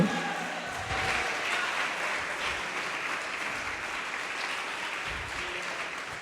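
Church congregation applauding in a dense, continuous wash of clapping that holds steady from start to finish.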